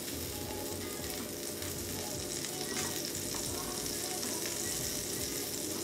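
Butter sizzling steadily in a frying pan for a grilled cheese, a dense, continuous crackle and hiss up close and fairly loud, without a break.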